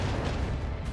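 Plasma fire in the video game Rogue Trader, a single second of dense, roaring low rumble with a broad hissing wash, loud and sustained throughout.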